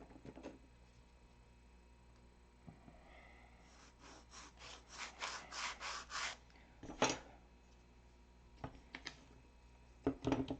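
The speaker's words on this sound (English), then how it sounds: "Sand it square." Sandpaper rubbing on a wooden part of a control line model aircraft to square it off, heard as a run of about eight rhythmic strokes close by, followed by a few sharp knocks and scrapes.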